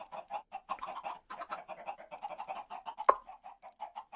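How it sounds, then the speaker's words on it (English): Chickens clucking in the video game Minecraft, a steady run of short, rapid, overlapping clucks at close range with one sharper burst about two-thirds of the way through; no voices. "Wow, those chickens are loud."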